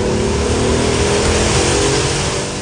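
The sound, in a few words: Alfa Romeo 156 GTA engine while driving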